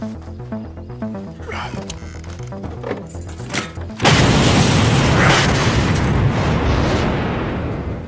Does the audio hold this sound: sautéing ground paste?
no